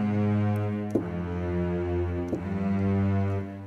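Long portato strings from the Berlin Strings virtual instrument play sustained, gently pulsing bowed notes, about three swelling pitch changes in a rich low-mid ensemble tone, close and alone.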